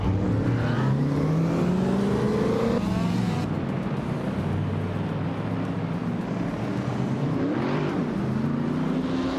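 Vintage race cars, among them a 1972 BMW 2800 CS, roar steadily with engine tones rising and falling as they rev and pass, loud and continuous without talk.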